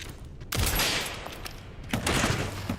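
Gunfire in a video game comes in two rough bursts, each a loud, noisy crack and rattle that trails off, fairly close with no talking over it.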